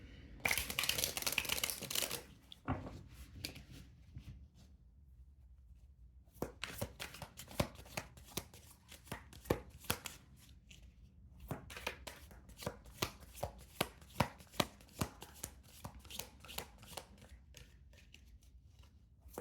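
Tarot cards are shuffled close by: a burst of riffling, a pause, then long runs of quick rhythmic flicking and tapping as the deck is mixed again.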